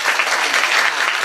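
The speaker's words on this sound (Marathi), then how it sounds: "एकदा जोरदार त्यांचं टाळी वाजून स्वागत करा जरा जोरात वाजवा ना जरा" A kirtan audience in Pune claps loudly and densely in a brief, steady burst of applause.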